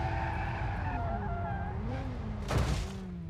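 Engine drone with drawn-out tire squeals sliding up and down in pitch, a BMW M5 E60 skidding through a drift in BeamNG.drive, with a brief scrape near the end.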